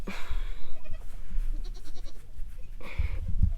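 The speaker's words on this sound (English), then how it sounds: "if you are a goat lover, you know, oh goodness, oh, Elsa, you know this is like the ultimate goat thing right here, Elsa." A goat bleats nearby, giving two loud, wavering calls at the start and end with rustling and handling noise in between.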